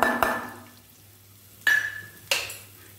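Ginger, asafoetida and whole spices stir-fried in a pan of hot oil for an urad kachori filling, with a steady low sizzle and a few sharp spoon-scrape clatters spaced through it.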